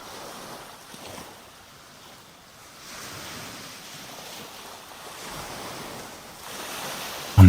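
Soft, steady ocean surf washing onto a beach, a continuous low rush with gentle swells rising and falling and a faint wind hiss, with no voices.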